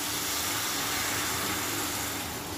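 Water is poured into a pan where a fish head is frying, giving a loud, steady, close hiss of sizzling that lasts the whole moment without a break. No one speaks.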